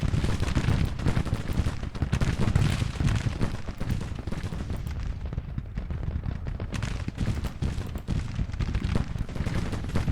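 Continuous battle din of artillery and massed gunfire in the Civil War strategy video game Grand Tactician, with dense overlapping booms and crackling shots rolling steadily for the whole stretch, loud and without speech.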